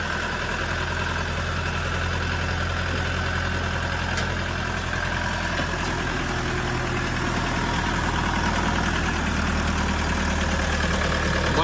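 A Dongfeng 404 G2 tractor engine idles steadily and loudly with a low rumble and no variation, running alone without voices.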